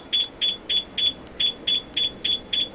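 A shrill motorcycle security alarm chirps in a steady, rapid rhythm in a parking area, about ten high-pitched beeps repeating evenly, with no talking.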